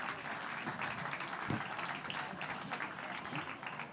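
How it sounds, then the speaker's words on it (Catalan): Audience applause at a Valencian literature morning during a Catalan-language book week event, steady broadband clapping from a crowd filling the whole moment, with a brief louder burst midway. "Un aplaudiment per totes dos"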